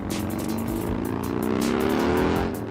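Cars and motorcycles rolling past in a funeral procession for a Hells Angels leader at Stockton 99 Speedway, a dense continuous roar of engines with revving rising and falling and repeated passing bursts.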